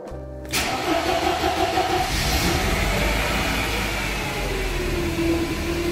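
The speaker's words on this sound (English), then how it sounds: "Start the car." A Mercedes engine with KE-Jetronic fuel injection cranks briefly and catches, then settles into a loud, steady idle with a slight rise in revs partway through.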